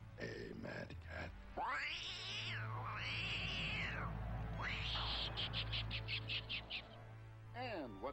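A cartoon cat from a M.A.D. scheme at the Winter Olympics opening gives several swooping, whining meows and cries, loud and close over a steady hum, with busy sound effects in the background.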